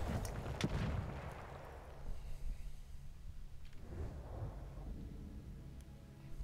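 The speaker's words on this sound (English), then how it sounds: "One dude throwing all those explosives." Thrown explosives go off in Battlefield 1 as faint, distant booms. A sharper blast sounds early, followed by softer rumbling detonations, all quiet under a low battlefield din.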